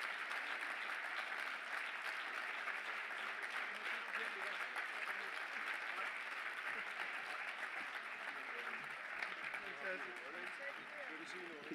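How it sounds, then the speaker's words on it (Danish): An audience at an award ceremony breaks into sustained, dense applause that holds steady throughout, loud and close, with many hands clapping at once in honour of a prize winner. "Kan I ikke lige rejse jer op og give ham et ordentligt bifald?"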